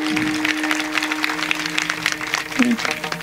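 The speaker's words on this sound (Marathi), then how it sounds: "आम्ही ओरडू ओरडू सांगतो टाळी वाजवा टाळी वाजवा" An audience at a kirtan claps in a steady, rhythmic beat, with a sustained instrumental drone and some voices underneath.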